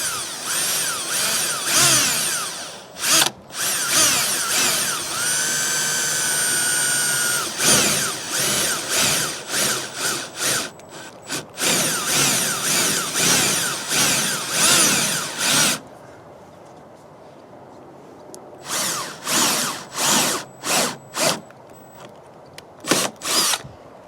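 Power drill with a unibit boring a pilot hole through double-layered metal while mounting curved LED light bar brackets on a 1995-2004 first-generation Toyota Tacoma, long sustained whining runs followed by short repeated bursts, close and loud.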